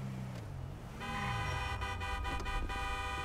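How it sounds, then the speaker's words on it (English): Car horn honking repeatedly from a sports car in a cops-and-criminals role-play video game, loud and sustained with layered tones over engine rumble, after a short quieter stretch. "Don't honk that much."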